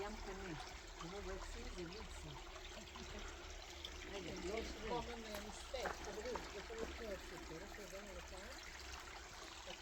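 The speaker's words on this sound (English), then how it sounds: "Listen to the water" Water trickles and gurgles steadily at the Einot Tzukim oasis by the Dead Sea, a constant close burble beneath faint wind, with a person speaking briefly.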